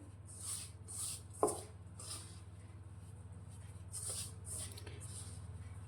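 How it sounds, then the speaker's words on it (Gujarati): Hands knead and rub flour with oil for bhakri dough, producing soft, quiet rhythmic shuffling and scraping strokes at close range with one sharper knock, over a low steady hum. "તો લોટના દરેક કણમાં આપણું મોણ ભળી જાય તે રીતે તેને આ રીતે મસળી અને મિક્સ કરવાનું છે।"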